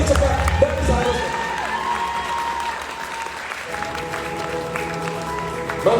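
Loud applause from the audience at a national leadership seminar, a large crowd clapping continuously with cheering and sustained background music throughout.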